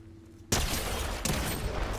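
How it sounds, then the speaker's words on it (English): Gunfire in Fortnite Zero Build solos, a sudden loud blast that cuts in after half a second over a quiet hum, a second crack following about three quarters of a second later, both trailing into dense noisy rumble. "that's a nice pistol shot"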